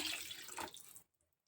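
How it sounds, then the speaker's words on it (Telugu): Water from a container gushes into a cooking pot for about a second and then stops abruptly, leaving near silence; the water is for a brown rice and red lentil khichdi. "ఇదిగోండి వాటర్ అయితే పోస్తున్నా"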